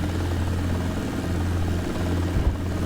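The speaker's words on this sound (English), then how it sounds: "let me put the helicopter down" A helicopter in a desktop flight simulator sets down for a landing, its rotor producing a steady, loud, low droning hum with a deep throbbing rumble throughout.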